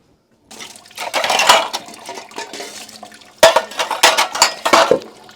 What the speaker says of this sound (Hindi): अभी जल्दी से धो लेते हैं बर्तन।